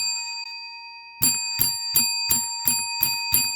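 A bell rings in a steady series of seven bright, sustained strikes about every third of a second, each with a long shimmering ring, loud and close with no talking.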